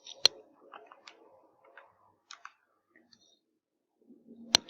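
Calculator keys tapped in quick, irregular succession while entering numbers, giving light, close clicks and ticks spread across several seconds, with a sharper click near the start and end and no talk.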